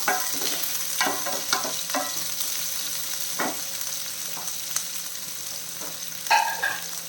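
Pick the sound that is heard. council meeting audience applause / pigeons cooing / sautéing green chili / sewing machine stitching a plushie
sautéing green chili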